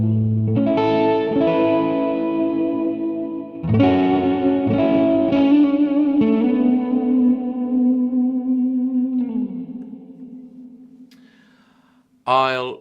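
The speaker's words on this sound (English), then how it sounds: "Now, as you can hear, this one does huge reverbs." Electric guitar through a Mooer Ocean Machine pedal set for huge reverb, struck chords blooming into long sustaining washes that slowly fade, loud and close, with a short vocal sound at the very end.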